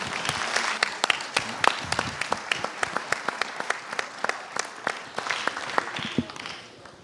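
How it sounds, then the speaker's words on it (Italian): Audience applause at a Sardinian emigration conference, a dense, steady clapping from a large seated crowd that holds a constant level for several seconds before easing off slightly at the end. "Vi chiederei un applauso per loro."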